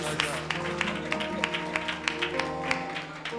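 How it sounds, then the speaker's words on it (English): A church congregation claps along in a steady, even rhythm of sharp hand claps, about three per second, under music and voices. "Clap your hand for my wife"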